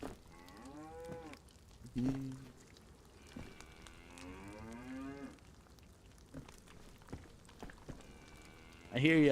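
Cow mooing in the video game DayZ, several long, wavering moos repeating at moderate distance, with talking over parts of it and light rain in the background.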